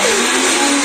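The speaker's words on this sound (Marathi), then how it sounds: "असं थोडं थोडं बंद चालू करून आंब्यातला गर आपण वाटून घेऊया" Mixer grinder blending mango pulp, a loud close motor whine that runs steadily throughout.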